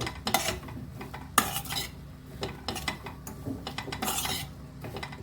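A spatula clinks and scrapes in a pan as salted capsicum, nearly done, is stir-fried for Mumbai street-style pav bhaji. The strokes are quick and uneven, with a soft frying hiss beneath, heard up close with no speech.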